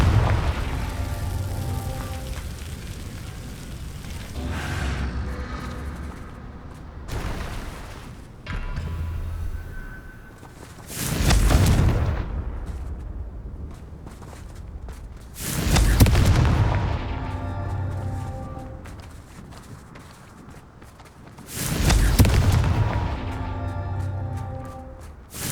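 Confringo blasting spells go off in Hogwarts Legacy, several heavy booming explosions at roughly five-second intervals, each a loud deep burst that trails off into rumbling debris over a steady low background.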